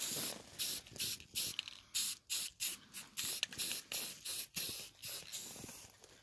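A spray can coats a wheelbarrow in a string of short, close hissing bursts, about a dozen quick sprays separated by brief pauses.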